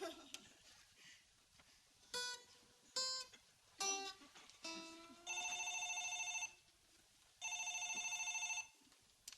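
After some brief scattered sounds, a telephone rings in two long electronic trills separated by a short pause.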